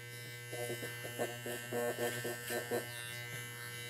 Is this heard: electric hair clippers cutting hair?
yes